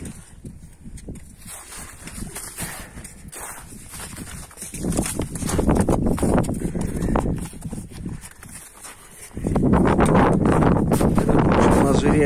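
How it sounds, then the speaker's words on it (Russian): A two-year-old colt moves about a farm yard, its hooves clopping in an uneven walking rhythm, close and fairly loud, with wind buffeting the microphone and people talking over it. "Это вот у нас жеребчик, двухлетка."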